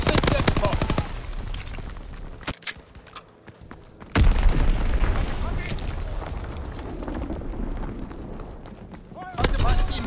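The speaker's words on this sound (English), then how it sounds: "Dropping Fritz X bomb." Call of Duty WWII Flak Tower hardpoint match: a heavy Fritz X bomb blast and rumbling impacts, followed by a fighter strafing run of rapid cannon fire, with in-game voice callouts between the explosions.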